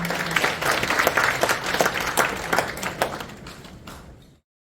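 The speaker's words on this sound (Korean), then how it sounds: "다시 한번 큰 박수 부탁드립니다." An audience claps together at a Christian prayer breakfast in a National Assembly meeting room, with dense, lively applause that tapers off and stops after about four seconds.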